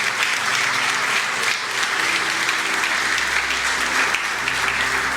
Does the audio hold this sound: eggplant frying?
no